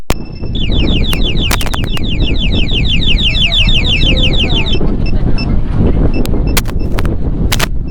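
A loud motorcycle anti-theft alarm, triggered by touch, trills in rapid repeating warbles, then switches to sharp intermittent beeps over a constant rushing background noise.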